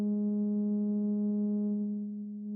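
A steady low-pass filtered saw wave synthesizer tone, a single sustained low note with muffled upper harmonics that holds evenly and slowly fades slightly toward the end, with no voices.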